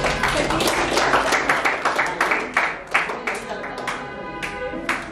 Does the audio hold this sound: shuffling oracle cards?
no